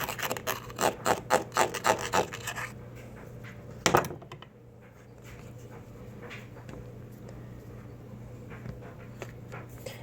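Pie crust dough trimmed off the edge of a chicken pot pie dish, a quick run of soft rasping scrapes for about three seconds, one sharper knock, then quiet faint handling noises.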